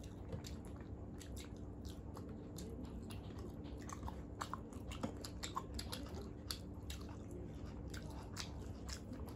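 Close, quiet chewing during a meal of rice with rohu fish curry and chorchori, soft wet mouth sounds and small irregular bites over a low steady background.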